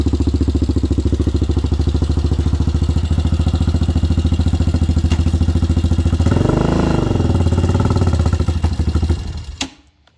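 A 2003 Yamaha Raptor 660 ATV engine runs close and loud with a steady throbbing idle, briefly revving up and down midway before cutting out at the end, after a backfire repair.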